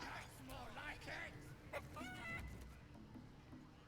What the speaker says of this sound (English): Chase that chicken!